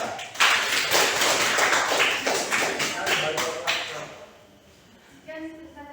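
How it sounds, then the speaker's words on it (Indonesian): A high school class gives a group of students a brisk burst of hand clapping, loud and close for about four seconds before it dies away, with a voice speaking over it. "Kita kasih tepuk tangan untuk kelompok 3"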